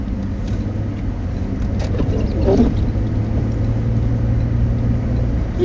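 A road vehicle speeds past on an icy winter road during a Gulf Coast winter storm, its loud, steady engine and tyre roar holding close by for several seconds.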